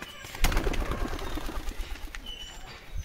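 Pigeons, tournament racing birds, cooing softly amid a busy loft, with a sharp knock early on and scattered rustling and faint chirps.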